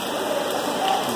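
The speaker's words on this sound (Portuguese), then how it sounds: "Não é outra coisa, não. É chuva mesmo." Heavy rain pours into a school classroom, a dense, even hiss of falling water and splashing drops filling the short stretch without talk.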